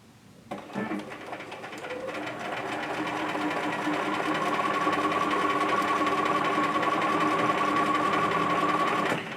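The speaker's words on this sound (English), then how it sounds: "we're just going to stitch right along that solid line right there" A sewing machine stitches steadily along the marked sleeve line of a Simplicity 1538 sample, its close, even whirring hum building up and running continuously to the end.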